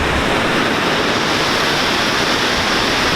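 Water rushes over the Huron River dam in Milford, a loud, dense, unbroken roar heard close and alone for the whole stretch.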